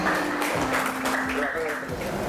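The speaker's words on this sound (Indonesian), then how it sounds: "Tepuk tangannya boleh." Audience applause at a halal certificate handover ceremony, light clapping heard beneath a steady background hum and faint voices.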